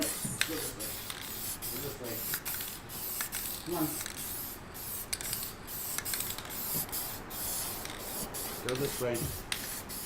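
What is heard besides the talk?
aerosol spray being sprayed for alcohol ink painting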